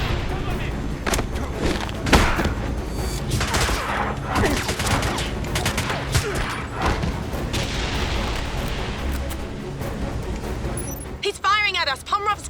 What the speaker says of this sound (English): He's firing missiles!